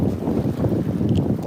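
Gusty wind at a river at night, a loud, low buffeting rush striking the microphone, steady and unbroken for a moment.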